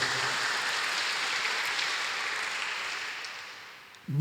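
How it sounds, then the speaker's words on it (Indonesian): Congregation applause at a year-end church service of GPdI Tiberias Pare, a steady broad wash of clapping that fades toward the end before a short burst of voices and sound cuts in. "Tepuk tangan dulu bagi Tuhan kita."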